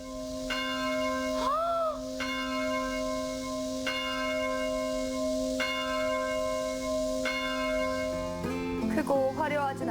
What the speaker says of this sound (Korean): 맑고 청아한 종소리만큼 깊은 울림을 전하고 있습니다.